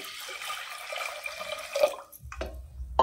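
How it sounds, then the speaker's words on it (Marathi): Water pours and splashes into a pot of washed lentils for rasam at close range, trickling and gurgling in short bursts with a few knocks. "आता यामध्ये ना पाणी घालूया"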